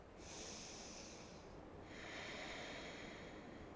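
Slow, deep breathing during a vinyasa yoga flow, one long airy inhale followed by a long exhale, soft and close with nothing else over it.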